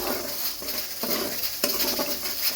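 Masala with tomato and dried coriander being roasted in a pan: a close, dense sizzle broken by a few soft scraping stirs and light utensil knocks over a couple of seconds, with no speech.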